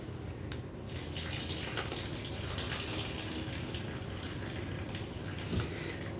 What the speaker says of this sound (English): I think I actually might dump some of her water out.